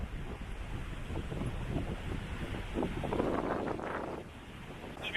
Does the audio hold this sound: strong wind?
yes